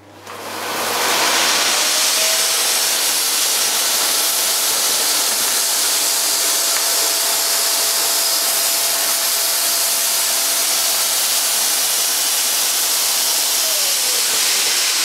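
Miele S5 Revolution 5000 cylinder vacuum cleaner switched on at full power, motor spinning up quickly into a loud, steady airy whine and hiss with a faint tonal hum, sustained without talk.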